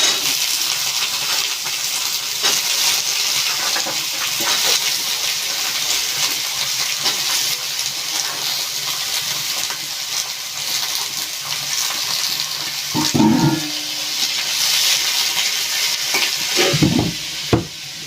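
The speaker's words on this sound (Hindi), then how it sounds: "उसमें सब्जी डाल देती हूँ, मैं छौंक देती हूँ।" Vegetables sizzle loudly in hot oil, a constant hiss with a couple of clanks from a spoon or pan near the end.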